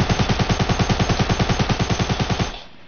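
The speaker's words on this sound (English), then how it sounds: "I'm shooting him right now." Rapid automatic gunfire in a video game, a steady burst of about twenty evenly spaced shots over two and a half seconds, loud and close, then cutting off abruptly.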